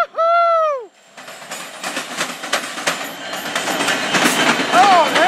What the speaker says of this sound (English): We got us a train coming up